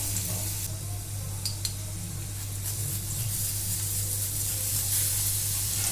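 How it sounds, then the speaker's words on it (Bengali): Grated garlic drops into hot oil in a pan with the gas turned off, giving a soft continuous sizzle and hiss under a low steady hum. "আমরা রসুনগুলো গ্রেট করে এর মধ্যে দিয়ে দেবো"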